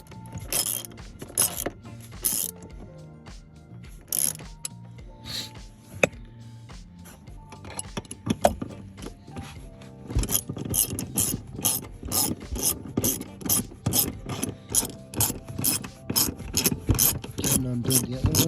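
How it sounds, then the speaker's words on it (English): Ratchet wrench turning while replacing a seat belt end latch on a 2013 Ford Fusion Titanium 2.0L, with bursts of quick clicking rasps separated by pauses and a faster, denser run of clicks toward the end. "I have a better Ratchet, but this is the first one I found."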